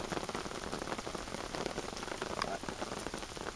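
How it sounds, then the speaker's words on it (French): Rain patters steadily on a forest bivouac camp with a makeshift wooden table, a dense, even hiss of drops striking leaves and surfaces close by, continuous throughout with no voices. "Il s'est mis à pleuvoir."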